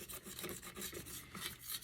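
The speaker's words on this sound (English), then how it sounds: "we're just going to take the 220 grit and go over it lightly." Light hand-sanding of a metal tape dispenser with 220 grit sandpaper, a steady close rasping scrub in repeated back-and-forth strokes with no talk.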